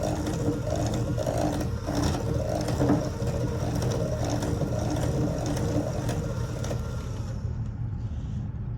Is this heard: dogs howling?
no